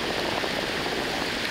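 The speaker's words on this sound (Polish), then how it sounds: "grad pada. No, ta pogoda to taka zmienna." Hail falling steadily outdoors near a waterway with barges, a dense continuous patter of hard pellets with no voices.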